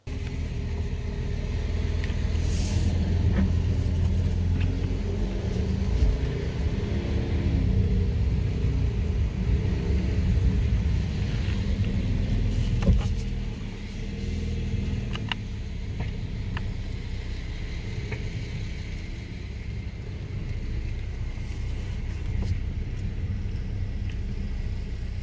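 A Mercedes C43 4MATIC on Michelin Pilot Sport 4 tyres pulling out of a driveway in freezing conditions, heard as a low, continuous engine rumble close by, easing slightly in the second half.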